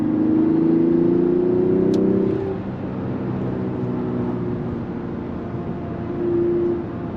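A turbocharged straight-six in a 2024 Mazda CX-90 Turbo pulls under load through twisty roads, a steady droning engine note that rises, eases off midway and swells again, heard from inside the cabin without speech.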